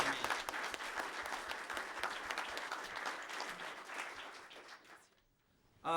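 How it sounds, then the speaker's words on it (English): A student recognition ceremony audience at Riverside Brookfield High School breaks into steady applause, a thick wash of clapping that holds for several seconds, then fades out into near silence before a sudden loud burst at the end. "Let's have a round of applause for Samantha."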